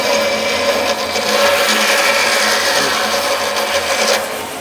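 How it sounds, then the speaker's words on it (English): A big power saw cuts through plastic-and-metal rear window trim on a truck, giving a steady, loud, dense grinding rasp that runs unbroken for several seconds with no talk. "big saw it is"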